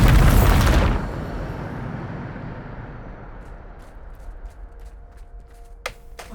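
A spell blast from a video game slams into rocks, a single loud booming explosion at the start that rumbles and fades over several seconds, followed by faint scattered taps and a small crack.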